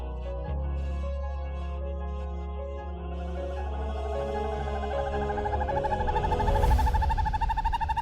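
An owl in the Amazon jungle gives sustained, tonal hooting calls that rise and pulse steadily over several seconds, loud and close with no talking.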